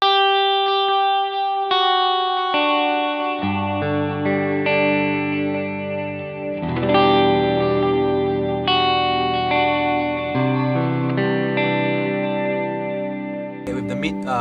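A James Tyler Studio Elite HD electric guitar with front and back pickups combined plays sustained chords and single notes through delay and light distortion, ringing cleanly with layered repeats and no talking.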